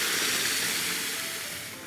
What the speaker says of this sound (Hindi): There is nothing more beautiful then a good tadka.